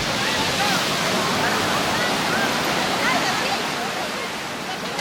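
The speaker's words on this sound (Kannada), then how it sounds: "ದೊಡ್ಡ ದೊಡ್ಡ ಅಲೆಗಳು." Big ocean waves break on Eco Beach in Shivamogga as a steady, loud, close wash of surf and spray, with no clear individual wave breaks.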